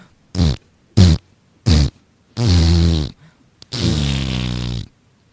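Five loud fart noises in a row: three short blasts, then two longer drawn-out ones, close and isolated with brief silences between.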